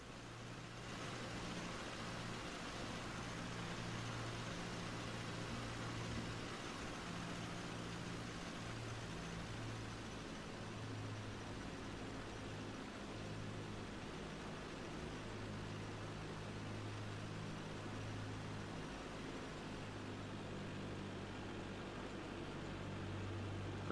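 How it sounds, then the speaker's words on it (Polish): Steady propeller aircraft engine drone in the FSX flight simulator during a slow landing approach with flaps extended, a constant low hum with a faint noisy hiss running evenly throughout, no talk. "Zdejmę sobie słuchawki, żeby lepiej słyszeć, jak silnik pracuje."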